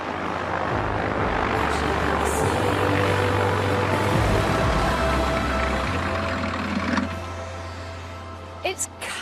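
A large jet aircraft rumbles on the ground at an airport apron, with a steady low engine drone and a broad roar that fades slightly toward the end, with talk over it.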